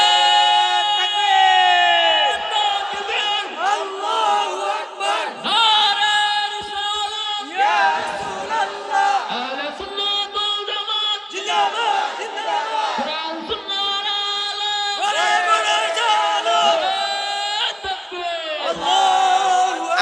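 A large crowd at a waz gathering in Sreemangal shouts takbir in loud, repeated collective calls, each surge of many voices rising and falling in waves, about six rounds, close and ringing.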